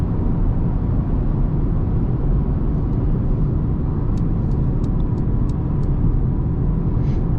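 A Mercedes-AMG A35 accelerates on a highway under adaptive cruise control, a steady, loud low road and engine rumble inside the cabin with a few faint ticking chimes near the end.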